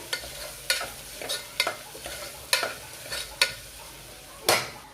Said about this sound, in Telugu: సో టమాటాలను 1 నిమిషం వేగనిద్దాము.